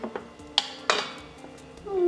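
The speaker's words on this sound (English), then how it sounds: "Carefully open up the lid." A pressure cooker lid, with spaghetti squash inside, opened after quick release: metallic clanks and scrapes of the lid, a couple of sharp knocks, then a rising hiss at the end, close and with no talking.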